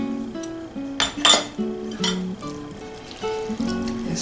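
Sardines and pickled chiles are stirred together in a dish, producing close, intermittent clinks and scrapes of a utensil against the dish without any talking.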